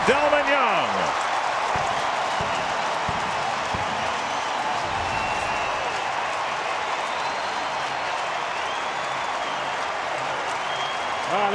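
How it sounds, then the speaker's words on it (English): Baseball crowd at a sold-out stadium cheering and applauding a solo home run, a broad steady roar of many voices and clapping filling the space, with a faint announcer voice in the background. "That gets the crowd on its feet here."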